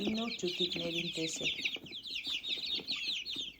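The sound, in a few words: new chicks cheeping and clucking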